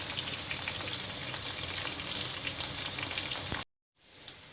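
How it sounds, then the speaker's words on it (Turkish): Eggplant slices sizzle in hot oil in a frying pan, giving a steady, close, dense crackle for several seconds before the sound cuts out abruptly and a faint hiss returns. "patlıcanlarım kızardı"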